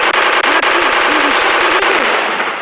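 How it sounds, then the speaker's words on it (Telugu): Rapid automatic gunfire from a gun in the Indian Bikes Driving video game, a loud, continuous stream of fast evenly spaced shots lasting a few seconds with no talk over it. "ఈ గన్నుతో ఏం చేయగలమో చూద్దాం."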